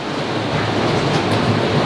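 Heavy tropical rain pours down in Panama, falling at about 3.5 inches an hour in a loud, constant, dense roar with no breaks.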